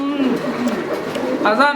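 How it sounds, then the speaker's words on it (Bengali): Pigeons at a pigeon market give low, soft, rolling coos under a busy background of voices and people talking nearby. "চার চারটা কবুতর চারটা চার প্রজাতির কবুতর"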